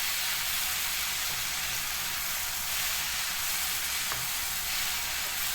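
Curry leaves, coriander and salt sautéing in a pan, giving a steady, even hiss of frying with a couple of faint stirring knocks.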